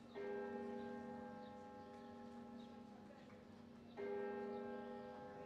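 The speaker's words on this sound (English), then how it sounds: "There's some loud bells." Church bells ringing in Zaragoza, two sustained tolls with long humming decay, the second struck near the end, heard at a moderate distance in quiet surroundings.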